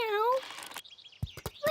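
In the Peppa Pig cartoon, a voice actor imitates a cat's meow for Candy Cat at a playground: one short, high, rising meow, followed by brief light cartoon sound effects.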